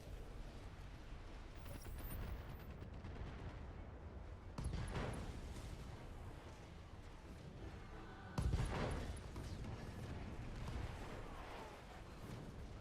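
Mech weapons fire at a dragon in the BattleTech video game. A dense, rumbling barrage of heavy blasts swells twice and keeps going over a continuous low roar, sounding distant and muffled.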